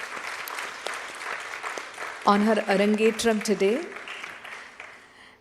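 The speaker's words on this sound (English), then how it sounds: "A big round of applause to Rahi as we congratulate her" An audience applauds a dancer at her Bharatanatyam Arangetram, steady clapping from a crowd running under a speaker's amplified voice, swelling briefly before thinning out.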